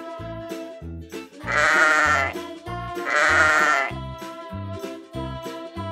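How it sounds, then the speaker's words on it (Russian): Sheep bleating in a children's cartoon about farm animals: two loud, wavering bleats in a row, each about a second long, over light bouncy background music. "Овечка."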